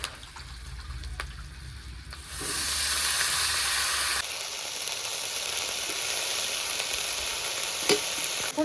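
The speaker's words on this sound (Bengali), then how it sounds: "এখন ওই রসুনের ভেতর কাঁচা লঙ্কা একটু চিঁড়ে দিয়ে দিয়েছি এখন এটাও ভেজে নেব" Garlic and slit green chillies fry in hot oil, then a loud hissing sizzle surges as Malabar spinach hits the pan, settling into a steady crackling fry with occasional stirring knocks.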